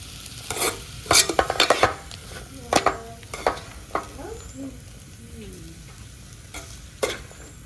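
Boiled vegetables being stirred and sautéed in a pan, with a series of scraping stir strokes and soft sizzling, busiest early and trailing into sparse clinks and a light frying hiss.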